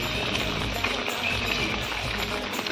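Steady rain falling without a break, a dense close hiss that holds throughout, with no voices.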